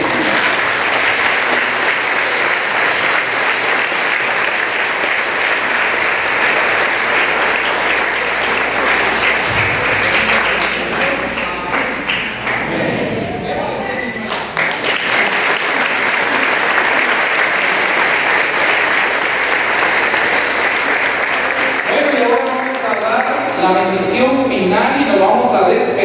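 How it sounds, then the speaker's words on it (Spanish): A church congregation gives sustained applause for the children during a charismatic prayer and adoration service in Dale City, loud and steady for most of the clip, with voices mixing in near the end. "démosle un aplauso a todos los niños"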